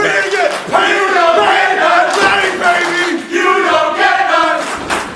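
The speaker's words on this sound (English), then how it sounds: "Now the crowd here in New Jersey, not a fan of Bad Company." Wrestling crowd in New Jersey jeering a tag team: loud, sustained chanting and yelling from a packed indoor audience, with rhythmic shouted chants rising and falling continuously.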